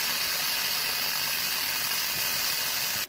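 An electric pressure cooker venting steam through its check valve gives a loud, steady, broad hiss that runs unbroken and cuts off abruptly at the end.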